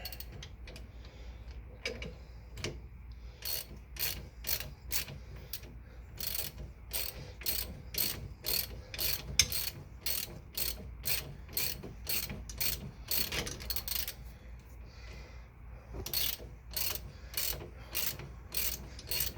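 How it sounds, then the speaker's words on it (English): A ratchet wrench compressing a Jeep leaf spring during a spring-over-axle lift, clicking in rapid repeated bursts of sharp ticks separated by short pauses, fairly quiet and close, with a faint low hum underneath and no talking. "Then grab my wrench."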